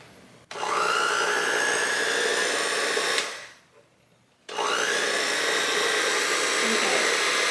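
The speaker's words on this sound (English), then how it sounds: "I bought a hand mixer from Amazon just for this recipe." Electric hand mixer whisking matcha cake batter, a loud steady whir running about three seconds, a brief pause, then starting up again and running steadily to the end.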